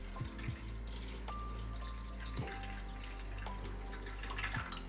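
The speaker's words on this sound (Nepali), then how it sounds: "यसरी पानी हालिदिन्छौँ" Water poured into a baking tray to make a water bath for crème brûlée custards, a steady close trickle running throughout with a faint tonal ring and a few clinks.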